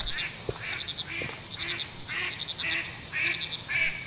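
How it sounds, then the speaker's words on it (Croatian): A duck quacks in a video game, a regular series of short, bright, nasal calls repeating roughly every half second over a soft, steady ambient background, with an occasional faint click. "To patka."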